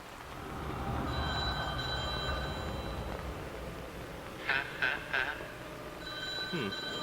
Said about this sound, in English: We got a phone ringing.